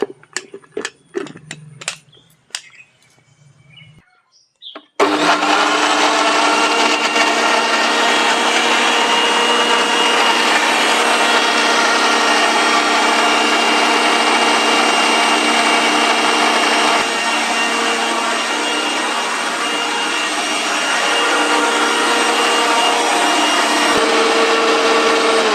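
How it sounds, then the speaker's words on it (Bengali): A kitchen blender runs loudly and steadily for about twenty seconds, whirring a mix of home-grown mango, black salt, sugar and chilled water into juice, after a few seconds of quieter handling sounds. "এবার এটাকে আমি ব্লেন্ড করে নেব।"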